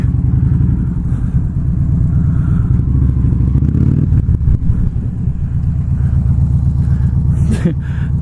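A cruiser motorcycle doing a long burnout, its engine roaring loud and steady at close range with a low rumbling drone, a brief rise in pitch near the end.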